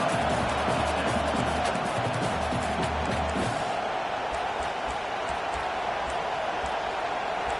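Football stadium crowd at a Georgia Tech game, a dense continuous roar of many voices with some low thumping early on, steady and loud throughout.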